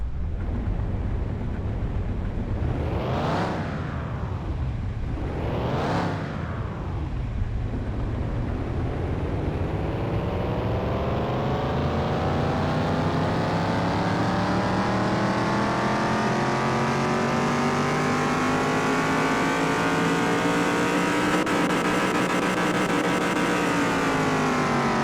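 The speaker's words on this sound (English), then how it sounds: "take it over to the dyno and see what kind of horsepower we're getting out of this" Richard Petty's #43 NASCAR race car in Car Mechanic Simulator 2021, roaring on a dyno: two sharp rev blips give way to a long, steady climb through the gears, loud and close with no talk over it.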